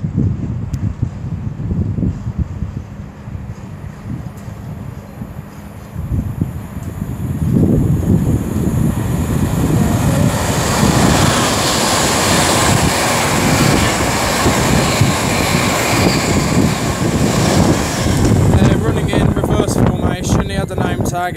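An Avanti West Coast Class 390 electric train, unit 390.151, passing at speed on the West Coast Main Line at Rugby. A rising roar builds midway and stays loud, with wind buffeting over it.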